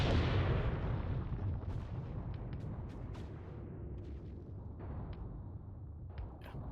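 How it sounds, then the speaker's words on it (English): In a WW2 video game, tank main guns fire high-explosive shells: one heavy boom opens with a long rolling, fading rumble, followed by scattered fainter pops and distant blasts. "So they start lobbing some high explosive onto this position of the enemy gun."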